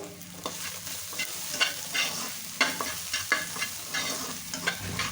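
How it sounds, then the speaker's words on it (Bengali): Onion flowers with hilsa roe and salt being stirred and fried in a pan, with a steady low sizzle broken by frequent sharp scrapes and clacks of the spatula, close and fairly loud, no voices. "দিয়ে আবারও ভালো করে নেড়ে নেব।"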